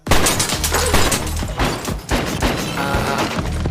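Gunfire from a sound effect in the crime TV drama Banshee: a dense, loud volley of rapid shots and crashing impacts that keeps going with a brief gap near the middle, mixed with other loud effects.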